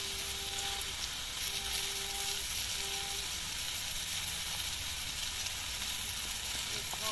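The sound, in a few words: bottle gourd and potato sautéing with turmeric and chili powder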